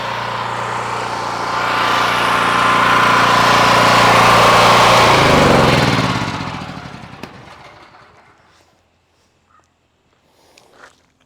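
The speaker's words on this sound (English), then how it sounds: "Turn my pressure washer off." A pressure washer's small engine roars steadily at close range, then is switched off and winds down over a couple of seconds into near silence, leaving a few faint clicks and knocks.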